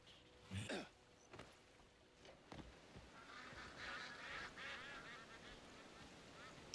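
A duck quacks in Crimson Desert, a short burst of honking calls near the start, then faint rustling and ambient game sounds carry on at low level.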